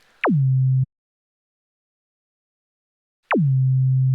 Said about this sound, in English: That's going to make it have like a kick sound.